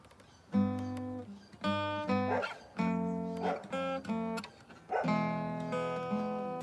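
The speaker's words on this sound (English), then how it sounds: "There's a bird, there's a dog" A dog barks and yelps several times in quick, uneven bursts, fairly close and clear against a quiet background.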